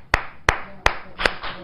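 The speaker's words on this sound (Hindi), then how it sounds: "बजा ताली" Audience members clap during a religious debate on the Ramcharitmanas: five sharp, close hand claps in an even, unhurried rhythm, each one distinct and alone, with no talk over them.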